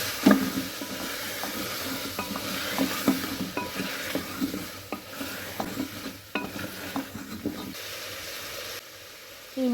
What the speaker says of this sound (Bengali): পেঁপেটা দেওয়ার পর একটু কষিয়ে নিচ্ছি।